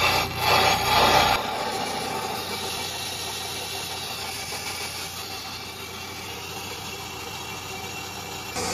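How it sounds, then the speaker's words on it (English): A brake lathe slowly feeds its cutting tips across a spinning disc brake rotor, giving a steady, even mechanical hum and faint grinding after a louder opening burst, continuous and close with no voices. "That engages the automatic feed and the machine will now slowly draw the tips across the surface"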